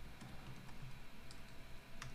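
Steady typing on a computer keyboard, quick irregular key clicks with occasional sharper taps, close and continuous with no talking.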